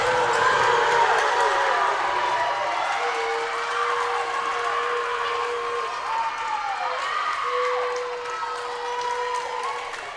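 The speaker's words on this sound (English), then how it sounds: "And that gets this crowd up and off their feet." High school volleyball crowd cheering and clapping in a gym after a block at the net, Tonganoxie Chieftains versus Paola Panthers, a steady roar of voices with sneaker squeaks and a commentator talking over it.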